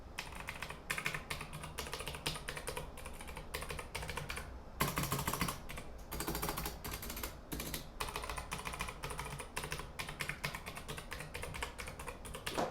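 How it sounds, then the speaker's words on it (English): Rapid typing on an Anne Pro 60% keyboard with blue switches, a dense, steady stream of sharp clicky keystrokes about a foot away, with a short pause midway and no talking. "I'm just going to give you a typing test of, you know, how loud these are"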